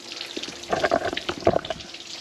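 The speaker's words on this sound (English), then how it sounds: "Get some water on. Alrighty. Now you got water flowing." Water runs through a hose flushing a 25hp Yamaha two-stroke outboard motor, a soft splashing and gurgling trickle with a few brief louder spurts, heard close by and without talk.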